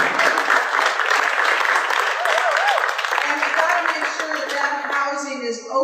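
Audience at a housing launch event applauding, a sustained burst of clapping from a room of people, with a speaker's voice rising over it toward the end.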